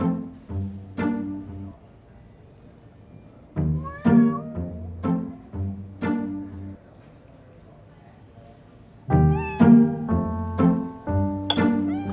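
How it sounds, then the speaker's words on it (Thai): Cats meow repeatedly inside a cafe, several drawn-out cries in two clusters separated by a quieter pause, close and clear. "ทำไมคุณปล่อยให้แมวเดินเข้ามาในร้านเยอะขนาดเนี้ยคะ"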